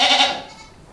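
A goat on a small farm gives one loud, close bleat that fades away over about a second, with no voices around it.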